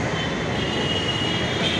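A metro train rumbles at a Faridabad station, a steady broad whooshing roar heard briefly and at close range, with no talking.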